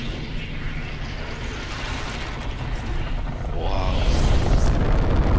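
Rocket launch event in Fortnite: a dense, grinding mechanical rumble that swells louder toward the end, with a brief spoken exclamation over it.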